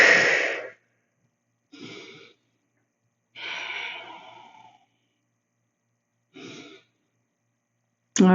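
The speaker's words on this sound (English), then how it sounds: "3 deep breaths." Several slow, deep breaths at the end of a floor exercise session, each a soft airy inhale or exhale separated by long silent gaps, close and clear with no talking.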